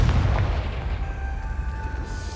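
A Confringo fire spell in Hogwarts Legacy explodes with a heavy, booming blast. Rumbling follows close and loud.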